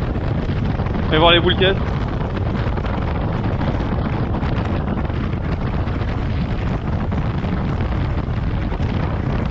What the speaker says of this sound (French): à part le vent qui est quand même assez présent